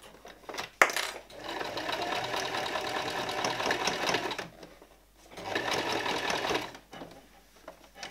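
A sewing machine stitches a shirt sleeve at the cuff in two sustained runs of fast, even mechanical whirring, separated by a brief pause, heard up close and fairly quiet, with a sharp click near the start.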